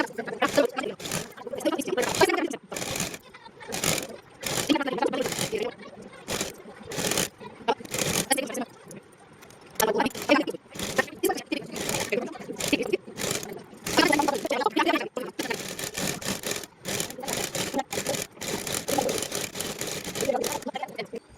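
Sewing machine running in short bursts, stitching straight seams on an off-shoulder plastic shirt top, close by, with someone talking between and over the stitching runs.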